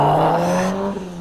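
Car pulls away as its engine revs hard, a loud rising whine that sweeps upward and then eases off as the vehicle drives off, with no voices over it.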